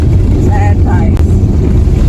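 Vehicle driving over a corrugated dirt road on the Tanami, a loud steady low rumble and rattle with wind buffeting the microphone throughout.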